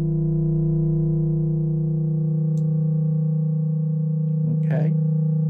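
Sustained drone tones from the Mononoke soundscape synth on an iPad, with two voices fed back into themselves; steady loud layered hum with a brief warbling chirp near the end.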